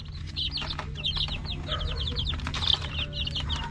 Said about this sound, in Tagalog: napaka gandang alaga mga manok